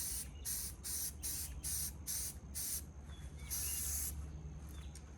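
A spray can of primer hisses in short repeated bursts against a vehicle bumper on a 1966 International Harvester, about seven quick sprays followed by one longer blast, close and clear over a low background hum.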